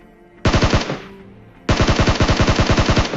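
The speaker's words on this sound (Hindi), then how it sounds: "अब ये वाले बंदे पे मैंने जैसे फायर किया" Automatic gunfire in the mobile game PUBG Mobile: a short burst of rapid shots, a brief pause, then a longer sustained burst, loud and sharp with no talking.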